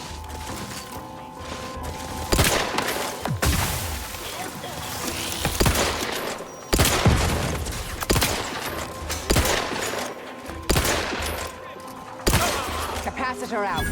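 Bursts of ranged weapon fire in The Outer Worlds 2 come in spaced volleys, each a sharp onset with mechanical clicking and reload sounds between, while a voice speaks over the action.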